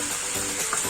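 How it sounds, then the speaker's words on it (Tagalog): Vegetables sautéing in oil in a frying pan for a chicken curry give a steady, close sizzle and crackle that runs unbroken throughout, with no voices over it. "dito ko igigisa yung ating mga gulay"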